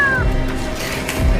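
A trapped kitten stuck among bricks and stones mews in a high, thin cry that rises and falls, heard briefly amid steady background noise from the rescue scene.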